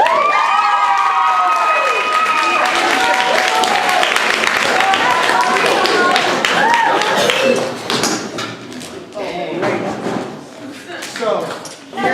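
Audience at a live improv comedy show cheering and clapping loudly for performers taking the stage, a dense sustained roar with whistles that fades into scattered claps and voices toward the end.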